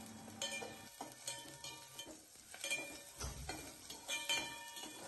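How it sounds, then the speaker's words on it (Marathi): Chopped onion sautéing in a pan with curry leaves, soft sizzling under intermittent spoon stirs and light clinks against the pan, close and fairly quiet. "कांदा व्यवस्थित परतून घेऊ"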